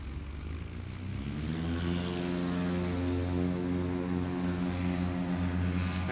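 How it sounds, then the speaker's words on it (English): A 1958 Cessna 172 Alpha model's piston engine and propeller drone steadily, building from a distance to a close, loud, harmonic roar as the plane passes, with no talk. "it's 1958 Cessna 172 Alpha model"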